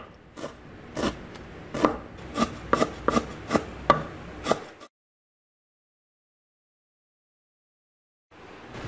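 Lemongrass being finely chopped with a knife on a board: a quick run of crisp, close chopping strikes with scraping between them, then abrupt silence before the chopping resumes.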